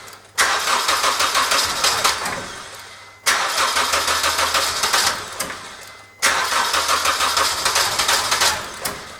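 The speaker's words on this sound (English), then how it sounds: "now I go to start this my engine" A Honda Civic with an electrical fault cranks three times in a row, each loud starter whir running about three seconds and sputtering without catching, separated by brief pauses.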